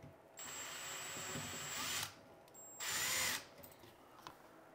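A power drill drives a screw into a GFCI receptacle, whirring in two short bursts with a pause between, close and clear with no talking.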